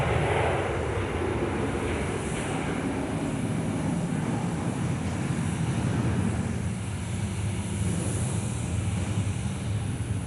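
Steady, loud aircraft engine roar at Perth Airport, holding as a continuous broadband rumble and hiss for the full stretch with no talk over it.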